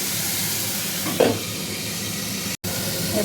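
Potatoes and cauliflower sizzling in a pan, a steady close hiss with a brief stir clatter midway and a momentary dropout.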